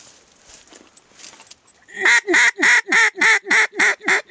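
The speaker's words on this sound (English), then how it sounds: "I had a fairly large group of mallards circle" Mallard ducks quack in a loud, regular series of about eight harsh calls, close by, following a quieter stretch of faint rustling and distant bird sounds during a late-season hunt in eastern Washington.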